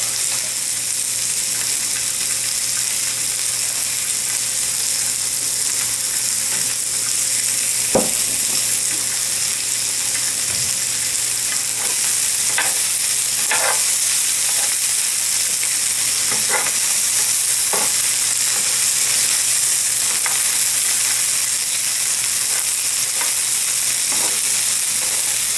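Sliced yellow and orange onions with peppers fry in a pan for a cheesesteak, giving a long, even sizzle close by with occasional sharp utensil clicks and scrapes and no voices.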